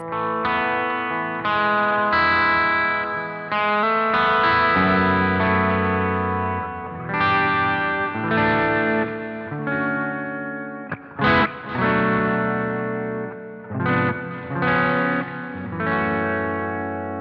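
Custom DST mahogany electric guitar through humbucker pickups, played with distortion and chorus-like effects: sustained chords and slow single-note phrases ringing out with echo, several pauses between passages, loud and alone without talk.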